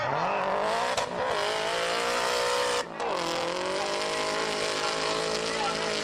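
A Nissan 180SX drift car at Oran Park North, its engine screaming at high revs with a steady tire squeal while it holds a long slide. Two brief dips break the roar, and a voice talks over it.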